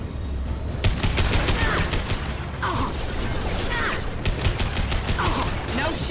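Sniper rifle shots in Mass Effect 2, a handful of sharp cracks spread across several seconds over a dense bed of combat noise, with mechanical whirs and whooshing effects between shots.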